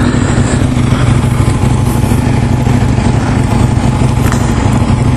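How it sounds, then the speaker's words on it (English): A group of twelve motorcycles passes a rider on the road, their mixed engines a loud, continuous rumble blended with wind roar, steady throughout with no break. "So there are 12 geezers on bikes"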